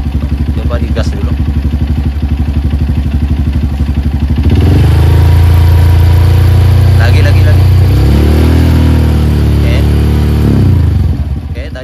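Honda CRF motorcycle with a charging fault, idling steadily and then revved hard twice, its engine note swelling and holding close and loud before dropping back to idle.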